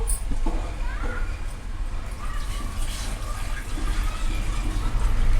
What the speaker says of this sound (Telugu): ఇప్పుడు ఈ బెల్లంలో అండి 1 గ్లాస్ వాటర్ పోసుకుందాము